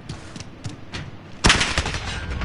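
Gunfire in the video game Call of Duty: a few faint shots early on, then a loud burst of rapid automatic fire that keeps going to the end.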